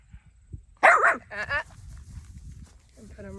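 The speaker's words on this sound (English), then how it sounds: "You don't need to be barking at the cars" A dog barks a few times up close, with a loud burst followed by shorter yelps, while a person speaks nearby during training.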